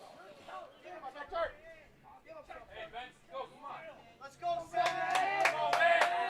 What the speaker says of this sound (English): You can hear the Canisius players cheering on their teammates